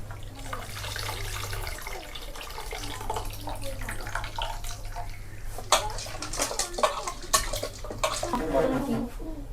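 Tamarind water is poured into a dish, a continuous close splashing trickle with occasional clinks of utensils, while faint voices murmur in the background.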